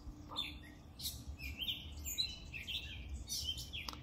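Many birds chirp and tweet among leafy trees in the morning, overlapping bright calls scattered throughout, soft and somewhat distant over a low background hum.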